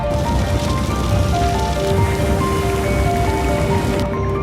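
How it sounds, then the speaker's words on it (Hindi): Dense, steady rain pouring onto a roof, a loud continuous hiss of many drops with no break, standing in for acid rain in a storm. "छत पर गिरती बारिश की आवाज बढ़ती गई"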